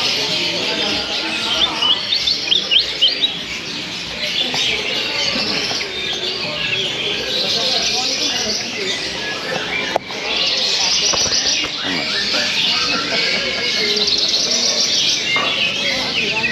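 Birds calling at a busy open-air bird market in Solo, Central Java, with zebra doves among them; continuous chirps and tweets fill the scene under steady crowd noise and scattered voices.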